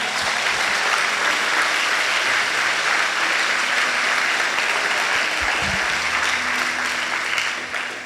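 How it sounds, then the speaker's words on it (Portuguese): A church congregation claps loudly and continuously for several seconds, a dense, even wash of applause with a brief low voice underneath. "Pode dar um salve de palmas para Jesus"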